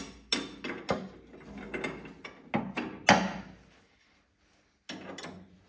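A metal spanner clanks and ratchets against a bolt on Unimog 411 suspension, a string of sharp close knocks and scraping turns with one louder strike, a pause, then more clatter.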